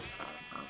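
A Minecraft sheep near lava gives two short, faint bleats in quick succession.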